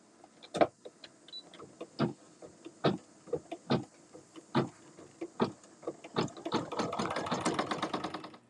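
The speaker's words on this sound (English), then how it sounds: "I'm on step number 11, which will stitch the outer satin stitch around the husk" An embroidery machine stitches an outer satin stitch around a husk shape on an in-the-hoop pot holder, giving a run of sharp rhythmic needle taps over a steady motor hum that thickens into a dense whirring patter near the end.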